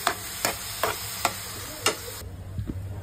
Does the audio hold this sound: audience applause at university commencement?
no